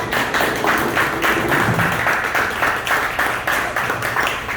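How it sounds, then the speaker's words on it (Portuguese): Audience at a Brazilian politics lecture hosted by a Korean community association applauding a city councilwoman as she takes the floor, steady rhythmic clapping from a modest crowd in a hall. "uma salva de palmas."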